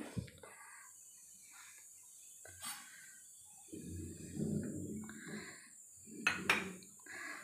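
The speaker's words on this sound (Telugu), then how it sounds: "ఫస్ట్ పల్లీలు యాడ్ చేస్తున్నాను, ఎందుకంటే పల్లీలు ఫ్రై అవ్వడానికి టైం పడుతుంది కాబట్టి" Raw peanuts are tipped into a hot pan for tempering. A quiet rattle and clatter rises mid-clip, then a brief second burst, with faint bird chirps in the background.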